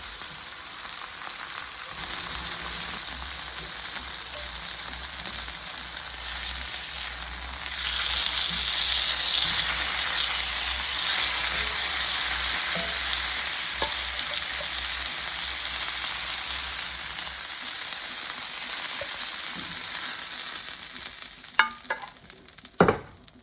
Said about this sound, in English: When you put the chicken in the skillet, don't mess with it.